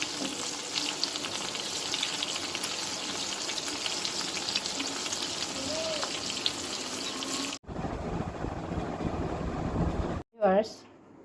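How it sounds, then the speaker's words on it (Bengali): Beef doughnut kebabs and chops frying together in hot oil make a loud, continuous sizzle and crackle, with speech heard at times and a couple of abrupt breaks near the end. "আমি চপ দুটাও দিয়ে দিয়েছি একসঙ্গে ভাজা হয়ে যাবে"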